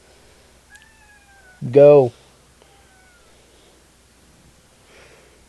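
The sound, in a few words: pet cat meowing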